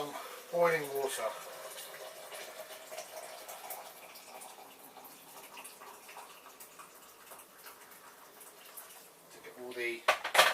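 Boiling water pours into a Coopers stout kit can, a faint liquid fill rising against clinks of metal at the start and end, with a voice murmuring faintly.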